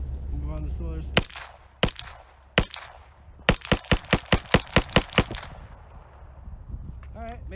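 A Grand Power Stribog SP9A1 fires off the remaining rounds of a magazine, loud sharp shots spaced out at first, then a fast string of about ten evenly paced shots before a brief pause with faint voices after.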